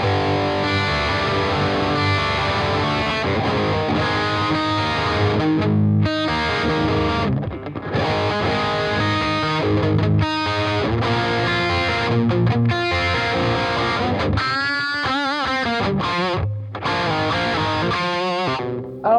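An Odin synthesizer in distortion mode plays a dense, gritty, sustained arpeggiated line, loud and continuous with brief dropouts and a thinner, more fluttering passage near the end.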